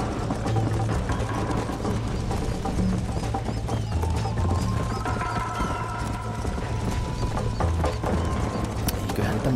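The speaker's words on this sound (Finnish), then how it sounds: "Saadaan pidettyä tämä hevosen täysi vauhti päällä" Horse hooves clip-clop steadily at full speed in the Red Dead Redemption video game, a continuous rhythmic beat in the foreground with occasional faint whinnies and no talk.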